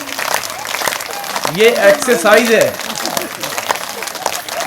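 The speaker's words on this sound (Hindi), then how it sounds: "बजाते रहिए, जोर से बजाते रहिए ताली" Audience hands clapping loudly at an outdoor health exercise session, a spread-out crowd sound running throughout under a man's speech, swelling briefly in the middle.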